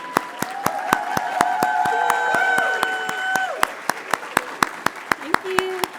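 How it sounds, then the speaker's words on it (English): At a higher education hooding ceremony, the audience claps for faculty and staff in sharp, evenly spaced claps standing out clearly, with a voice cheering over the first half before the clapping continues alone. "let's give them a big round of applause"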